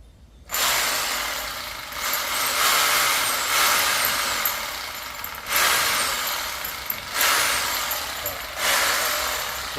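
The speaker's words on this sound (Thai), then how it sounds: "เราก็ใช้สว่านในการเจาะนะครับ" An electric drill whirs in repeated bursts, spinning up and running for a few seconds at a time with brief pauses between holes drilled for mounting a wall fan.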